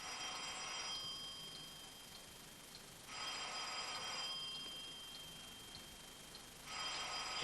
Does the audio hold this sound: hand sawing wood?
no